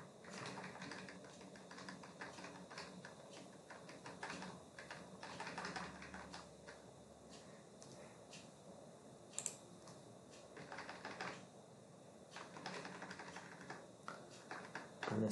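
Keys clatter on a computer keyboard as text is deleted, a steady run of close, crisp clicks with brief pauses and no voices.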